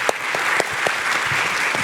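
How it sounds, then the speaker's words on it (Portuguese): Brief applause rises from the audience at a diversity and inclusion summit, dense clapping with a few sharper claps standing out, lasting under two seconds. "Então, palmas."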